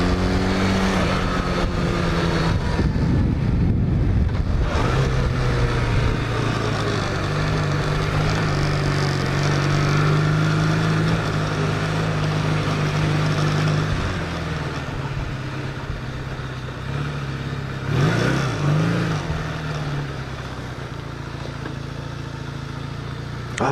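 A 1980 Kawasaki LTD440 motorcycle engine idles a little high, a steady close, continuous mid-low hum with a brief throttle swell early on and another near the end.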